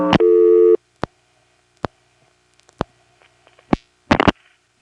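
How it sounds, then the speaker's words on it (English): Clicks and flashes on a 1977 NX1-E telephone exchange, with a register dropping and a service code trunk flashing: a short steady tone opens, then sharp isolated clicks at irregular intervals and a closing burst of clatter, with no talk. "That was the rego dropping and the service code trunk flashing"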